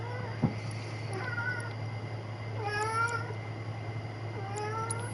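A cat meows several times at moderate volume, rising drawn-out cries spread through the clip over a steady low hum and background noise.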